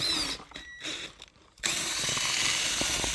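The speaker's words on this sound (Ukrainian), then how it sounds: "І це шуруповерт вже трошки підсів." A cordless power screwdriver with a slightly drained battery spins while bottles are washed, its whirring motor running in short bursts then steadily and close, with no talking.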